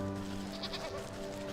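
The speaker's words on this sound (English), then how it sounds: "I think there's a sheep in the market." A sheep in the Wytchwood video game market gives a short, wavering bleat, clear and close over a faint steady game background.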